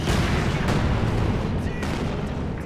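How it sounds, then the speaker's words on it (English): Bombing strike explosions in Company of Heroes 2 during a 4v4 battle over a hill, with dense, continuous booms and rumbling blasts filling the clip and a few sharper cracks on top. "MG goes down to a L2 bombing strike, I think it was."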